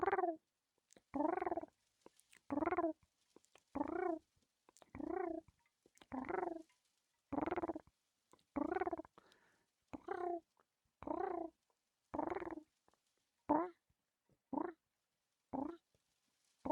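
A person imitates a cat's purr in rhythmic bursts, each rumbling purr followed by a short pause, repeated about a dozen times, close and fairly quiet.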